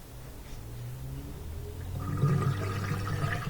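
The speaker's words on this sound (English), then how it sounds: "You can hear it draining right there." A Bosch dishwasher drains water, giving off a low gurgling hum that swells partway through into a fuller watery churn, steady and close.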